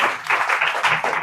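Short burst of applause from students in a classroom, a dense, rhythmic clatter of hands rising and falling in pulses, fairly close and loud for about a second.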